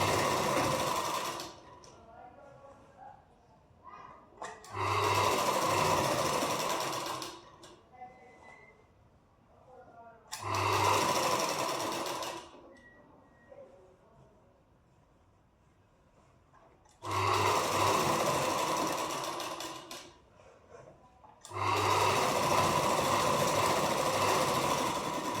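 An electric sewing machine stitches a princess-cut deep neck blouse in five loud whirring runs of two to three seconds each, close by, with quieter pauses between where someone talks.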